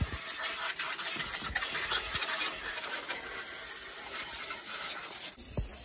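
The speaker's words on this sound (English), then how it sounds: "I'm going to jet wash all my leaves and make it brand new again" Jet washer spraying water over tree leaves while clearing a caterpillar nest, a steady loud hiss of spray with short bursts and splatters throughout.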